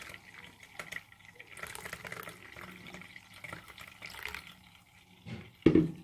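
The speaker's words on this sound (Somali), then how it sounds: "hadda waxaa ku miirayaa biyihii" Faint trickling and splashing of carrot-soaking water poured through a large strainer, soft and uneven, ending in a brief louder gush.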